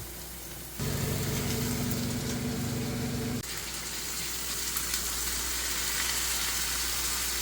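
Potatoes and bottle gourd peels hit hot oil already frying onion, garlic and onion greens, setting off a loud, close, steady sizzle that surges in suddenly, eases slightly after a few seconds, then keeps crackling on its own.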